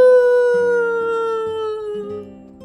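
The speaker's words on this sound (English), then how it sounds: "He let out a low moan." A low, moaning howl sound effect in a spooky Frozen sleepover story, one drawn-out tone that slowly sinks in pitch and fades over about three seconds, heard alone with no talking.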